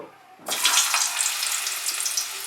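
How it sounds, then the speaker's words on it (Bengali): Diced potatoes hit hot mustard oil in a wok and erupt into a loud, steady sizzle that starts abruptly after a brief quiet moment and keeps crackling close up with no talking. "এবারে আমরা প্রথমে আলুটাকে ভেজে নেব।"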